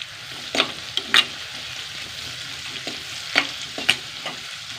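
Curry leaves fry in hot oil in a pan while a fish-style curry is being cooked, giving a steady soft sizzle with several sharp crackling pops and spatters close by, no speech.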